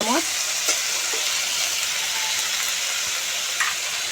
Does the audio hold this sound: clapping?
no